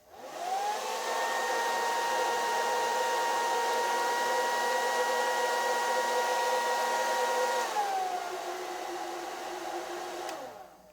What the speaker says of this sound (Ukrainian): з завданням ми справились, фен працює